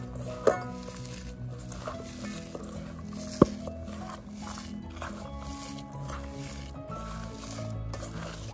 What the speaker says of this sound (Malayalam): ഇതെല്ലാം നമുക്ക് ആദ്യമേ തന്നെ നന്നായിട്ട് കൈകൊണ്ട് ഞരടി ഒന്ന് മിക്സ് ചെയ്യാം